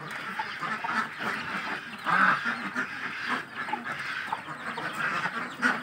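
Hybrid ducks at a large breeding farm in Sampang, Madura, keep up a steady, dense chorus of quacks and honking calls, with a continuous murmur from the flock and a louder burst around the middle.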